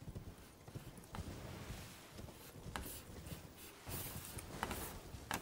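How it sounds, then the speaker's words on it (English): Horse hooves gallop in Elden Ring, a steady rapid clip-clop rhythm running throughout over soft ambient game sound. "I can just peace out again on my horse"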